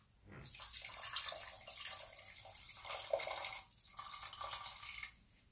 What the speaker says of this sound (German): Jetzt noch 1 Glas Wasser.